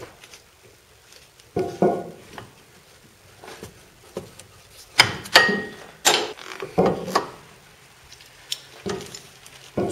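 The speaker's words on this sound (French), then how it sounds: "Cet arrache-là est différent des précédents parce que lui il appuie, comme vous voyez, il fait levier" A wheel hub puller presses on a bolt during a wheel control-arm replacement, giving irregular metallic clicks, knocks and ratcheting clanks that come in scattered bursts close by.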